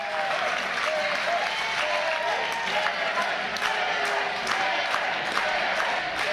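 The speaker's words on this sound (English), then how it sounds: "listen to this crowd come alive for Eric Young." Wrestling arena crowd cheering and applauding at a live match, a dense, sustained roar of clapping and shouting that stays loud and even throughout, with a commentator's voice faintly underneath.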